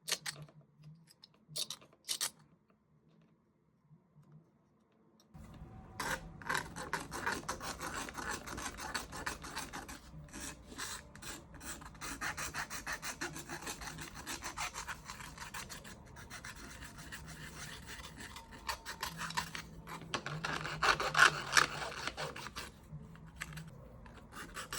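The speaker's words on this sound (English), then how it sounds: "When it's rough area, you can just scrape it or file it down." Rough plastic trim on a model railroad engine house kitbash is filed and scraped, a close, raspy back-and-forth rubbing that runs steadily for about twenty seconds after a few brief scratches and a quiet pause.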